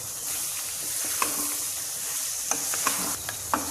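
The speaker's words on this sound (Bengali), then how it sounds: "এবার আমি অর্ধেকটা সেই গুঁড়া মশলা দিয়ে দিচ্ছি" Ground spice powder crackles and sizzles in hot oil for an olive pickle, a steady frying hiss punctuated by several sharp scrapes and taps of a stirring spoon.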